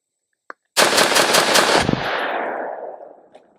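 A JAKL 5.56 rifle with a 13.7-inch barrel and skeleton stock fires a five-round P-Max magazine. A faint click comes first, then a loud, rapid burst of shots ends in a long fading echo.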